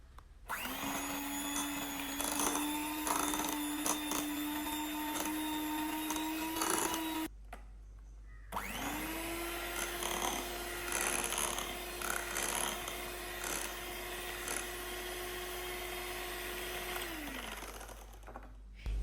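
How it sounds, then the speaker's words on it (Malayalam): An electric mixer beats cream cheese and sugar for a Basque burnt cheesecake, a steady whirring motor hum running in two long stretches separated by a brief stop, close and without speech. "ആദ്യം നമുക്ക് ഈ പഞ്ചസാരയും ക്രീം ചീസും കൂടി നന്നായിട്ടൊന്ന് ബീറ്റ് ചെയ്തെടുക്കണം"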